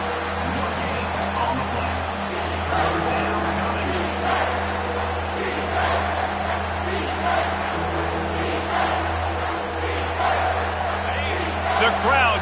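Stadium crowd cheering in College Football 25 as a defense tries for a red-zone stop, a steady dense roar of many voices with rising swells throughout, playing under a commentator's talk.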